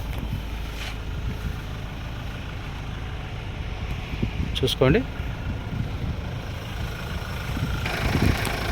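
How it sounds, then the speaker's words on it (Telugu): A 2014 Mahindra XUV500 W8 FWD seven-seater diesel engine idles with a steady low rumble, while someone speaks briefly over it and a few clicks and knocks sound nearby. "మీకు ఒక్కసారి ఇంజిన్ సౌండ్ అనేది చూపిస్తాను"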